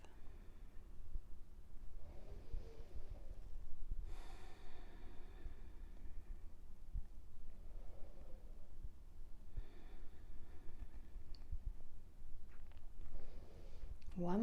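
Slow, deep yoga breaths, soft inhales and longer exhales, come in a few unhurried rounds over a faint room hum and are heard close to the listener.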